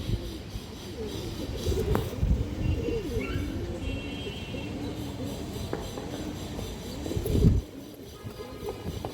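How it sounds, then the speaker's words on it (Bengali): Several pigeons coo continuously in overlapping low rolls, close by, with a few brief chirps and a soft thump near the end. "অসাধারণ চোখের একটা কবুতর এই যে দেখেন"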